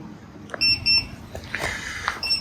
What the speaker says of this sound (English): we've just hit 57 degrees and the little alarm went off